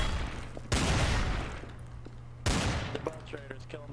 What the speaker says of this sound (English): Uncle and SFE are shooting each other.